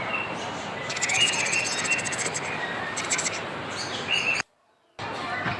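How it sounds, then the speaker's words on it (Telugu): Birds chirping at the RK Beach marine park in Vizag, a steady busy twitter of small calls with brighter bursts, continuous and fairly loud, cutting out briefly near the end. "బర్డ్స్."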